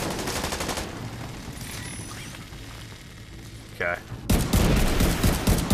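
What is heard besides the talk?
gunfire in The Division 2 video game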